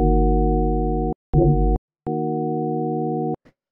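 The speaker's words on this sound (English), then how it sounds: "you use 2 sine waves and do FM" A synthesized chord built from two FM sine waves, giving a buzzy saw-like tone, sounds in three loud sustained blocks separated by short gaps, with a brief different-pitched burst in between.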